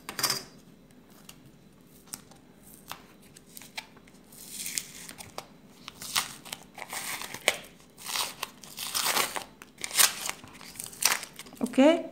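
Masking tape peeled and torn off a shoe last during shoemaking, giving crinkling, crackling strips of sound that grow louder and denser toward the end, with a voice talking at times.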